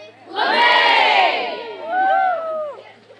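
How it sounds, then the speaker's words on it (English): A crowd cheers and whoops at the finish of a 5K run held in honor of an infant daughter, a loud swell of many voices followed by a second burst of shouts and cheers. "memories of old and the new ones from the 5K gave the Rislovs and everyone else so much to cheer for at the end."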